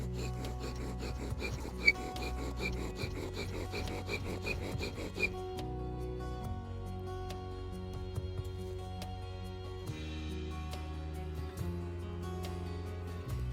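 Steady rasping friction of a wooden bow drill spindle rubbing on a wooden board, a continuous grinding scrape that shifts in pitch partway through, close and fairly quiet.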